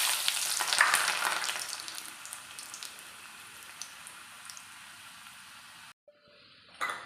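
Mustard seeds, cumin and garlic fry in hot oil in a pan, a bright crackling sizzle that is loudest at first, then settles to a steady hiss before cutting off.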